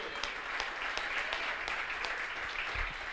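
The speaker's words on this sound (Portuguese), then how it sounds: "Pode aplaudir ao Senhor todo o seu coração." A church congregation claps together in a steady, fairly faint patter of applause that fills the short stretch alone, without voices over it.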